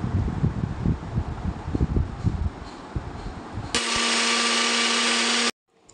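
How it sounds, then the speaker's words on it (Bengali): After a stretch of soft handling and clatter, an electric grinder starts grinding a small amount of soaked Gobindobhog rice, a loud steady whine lasting nearly two seconds before cutting off abruptly. "ওই অল্প গোবিন্দভোগ চাল ভেজানোটা এবার আমি গুঁড়ো করে নিচ্ছি"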